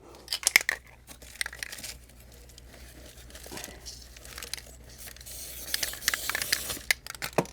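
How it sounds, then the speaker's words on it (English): A hissing can of tacky spray adhesive sprayed onto felt, with short bursts and a longer spray near the end, mixed with crinkling and handling noises close by. "I'm going to use tacky spray."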